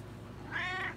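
A single cat meows once, a short bright mid-pitched call rising and falling over about half a second, close by and clear over a faint low room hum.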